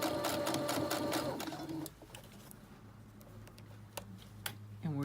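A sewing machine runs steadily through a top-stitched seam along the upper edge of a garment sleeve, a loud whirring hum for under two seconds that then drops to a quiet background with faint cooing birds.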